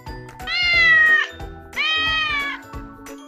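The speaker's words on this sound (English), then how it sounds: "8 kittens." Kittens meow in a children's counting song, two long, loud, drawn-out meows close by, with a brief pause between them.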